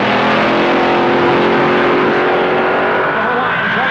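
Loud, steady roar of 1966 drag racing cars holding at the line while staging before launch, a dense engine drone with a sustained tonal whine, heard from close by.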